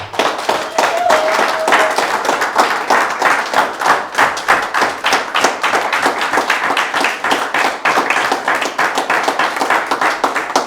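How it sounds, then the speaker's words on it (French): A church congregation applauding for the mothers, loud close rhythmic clapping from many hands in quick regular beats that carries on steadily for around ten seconds. "Est-ce que quelqu'un peut acclamer pour les mères ici?"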